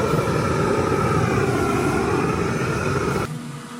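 An oxy-acetylene gas cutting torch in a VR welding simulation gives a loud, steady roaring hiss with a faint wavering drone, then drops abruptly to a quieter hum near the end.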